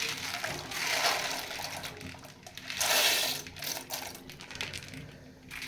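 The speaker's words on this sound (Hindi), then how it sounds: "इसके लिए हमने पानी गर्म करने के लिए रखा है, साथ में डालेंगे मैकरोनी।" Dry macaroni poured into a pot of water heating on the stove for a Pakistani-style macaroni dish, making a rattling, pattering rush that swells twice, close and moderately loud.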